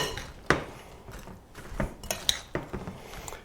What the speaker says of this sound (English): Let me just mix it a little more to be sure.